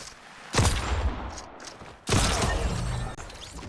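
Two loud, close hunting rifle shots in the Fortnite video game, each a sharp blast with a long ringing tail, spaced about a second and a half apart.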